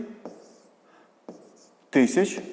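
A pen writes numbers on paper in a few short scratchy strokes, with a soft voice speaking close by near the end.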